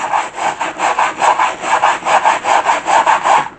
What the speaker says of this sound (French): on a essayé avec cette brosse sur une partie lisse pour faire voir l'exemple